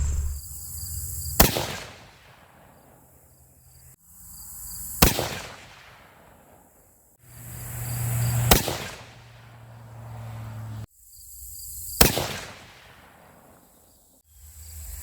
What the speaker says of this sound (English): Let's shoot the last group.